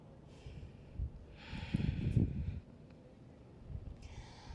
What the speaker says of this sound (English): Listen to the breath.